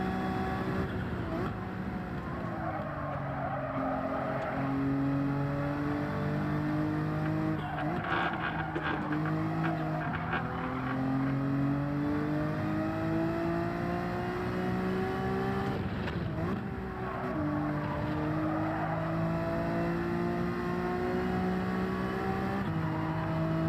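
Honda NSX race car in Gran Turismo 7, its engine droning steadily with rising and falling pitch through gear changes, tyres squealing and skidding at times, loud and continuous throughout.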